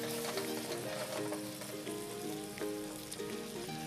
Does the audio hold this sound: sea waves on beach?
no